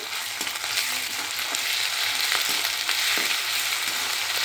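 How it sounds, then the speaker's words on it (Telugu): Ginger garlic paste frying in a pan for a jackfruit curry, a steady loud sizzle with occasional soft scraping ticks of stirring throughout. "ఇందులో మనము 1 స్పూను అల్లం వెల్లుల్లి పేస్ట్ యాడ్ చేసుకోవాలి. బాగా వేగే వరకు, పచ్చివాసన పోయే వరకు వేపాలండి"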